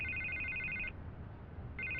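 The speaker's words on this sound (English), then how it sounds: "I can't get the phone to stop ringing" A telephone rings in the video game Batman: The Telltale Series, two bursts of a bright electronic trill separated by a short pause, clear and close with no talk over it.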